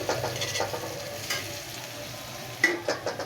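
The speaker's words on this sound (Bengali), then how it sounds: "তো আমি নেড়ে চেড়ে সুন্দর করে ভেজে নিচ্ছি" Onions stirred and fried in a pan for noodles, a soft, steady sizzle with a few scraping spoon strokes, quiet and close with no talk.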